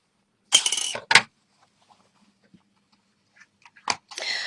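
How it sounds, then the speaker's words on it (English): Metal scissors fall and clatter in a sharp close burst of rattling clanks. A second, fainter clatter follows a few seconds later, with near silence in between. "Those my scissors that fell."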